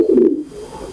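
One loud, close pigeon coo rolls out for about a third of a second, then fades into quiet, low background noise among caged pigeons kept for breeding.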